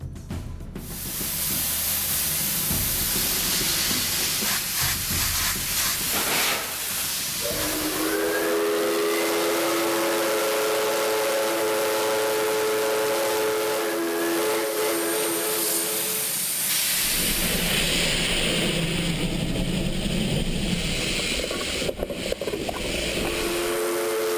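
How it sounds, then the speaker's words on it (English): An Ecuadorian Railway steam locomotive hisses and rumbles steadily up close, with a long sustained steam whistle sounding in the middle and continuous loud chugging noise throughout. "The steam locomotive will lead this final part of the train adventure to the last station of Duran."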